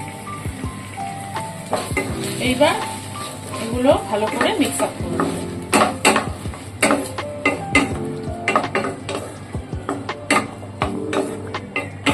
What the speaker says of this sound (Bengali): ওকে সস দিয়ে একটু কুক করে নিয়ে তারপরে অ্যাড করব